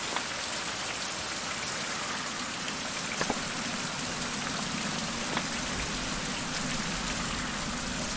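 Rain falls steadily in the survival video game Survival: Fountain of Youth, an even, hissing patter of drops on surfaces that stays constant throughout with a few faint ticks.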